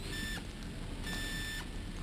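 Metal detector in Atomfall beeping in a repeating pattern, three long high electronic tones spaced evenly over a low background rumble, clear and close with no voices.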